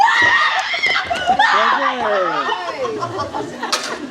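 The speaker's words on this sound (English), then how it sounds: "Desi, it's really hard to do a show with all that screaming going on." A crowd of children in a show audience shrieks and squeals together, high overlapping voices rising and falling loudly, with excited chatter and laughter mixed in.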